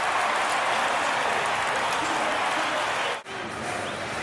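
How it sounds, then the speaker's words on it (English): A roaring stadium crowd at Chicago's Soldier Field cheers after a Bears two-point conversion against the Philadelphia Eagles in 2009, a dense continuous wall of noise that briefly dips. "So the crowd electrified again as Chicago answers that Philadelphia quick strike, with Cutler leading them down the field."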